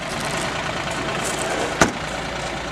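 A 2015 Caterpillar 303.5E CR mini excavator's diesel engine runs at a steady idle, a smooth, even drone close by with one brief sharp knock partway through.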